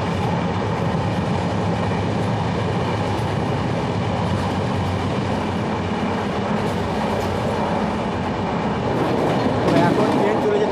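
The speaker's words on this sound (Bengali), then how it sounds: "এখন ট্রেন চলে যেতে সর্বোচ্চ গতিবেগ 110, 120 তার গতিবেগে" Howrah Mumbai Mail running at speed makes a steady, dense rumble of wheels and carriage rattle with a faint rhythmic clatter, heard from on board, continuous and loud.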